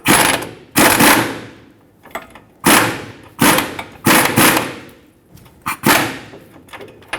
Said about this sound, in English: Hold the bolt and tighten up the nut.